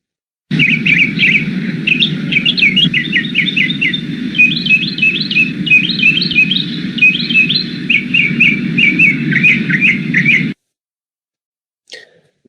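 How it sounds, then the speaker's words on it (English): Bright, rapid bird chirps and trills repeat continuously over a steady low hum, then stop abruptly, followed by a brief faint tick. "how a bird sounds like when it is chirping"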